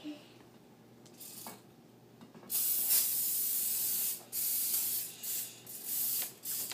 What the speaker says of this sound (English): you need to spray your pan too.